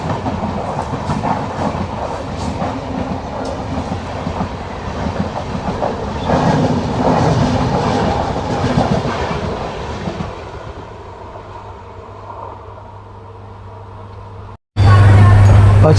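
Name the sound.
Nangal Dam Express train 14505 running on rails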